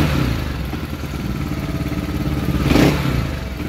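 An engine revs up briefly under throttle, rising to a louder roar near the end before settling back to a steady running drone.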